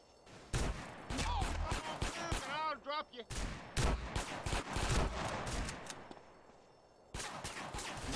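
Gunfire in GTA San Andreas Definitive Edition: loud bursts of shots in rapid clusters, with a pause before a final volley, mixed with game effects and a voice talking over it.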